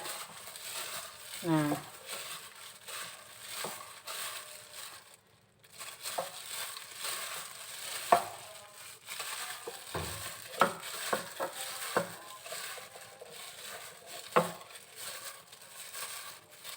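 Vegetable fritter batter with seasoning being stirred gently by hand in a bowl: soft, wet squelching and scraping that continues steadily at low volume, occasionally interrupted by brief clinks, with a person talking over it.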